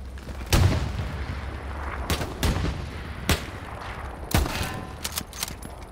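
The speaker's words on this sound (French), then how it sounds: "Il y a du tir allemand là, non?" German weapons fire in the World War II shooter Hell Let Loose: sharp, loud gunshots and booming reports crack out at irregular intervals, several distinct blasts echoing over a rumbling battlefield background.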